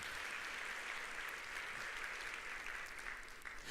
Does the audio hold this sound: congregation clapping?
yes